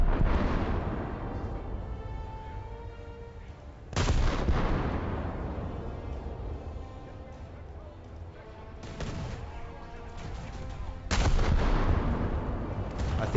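Heavy naval ship guns firing in the War Thunder video game, three big booming shots spaced several seconds apart, each with a long rumbling decay beneath continuous battle noise and someone talking.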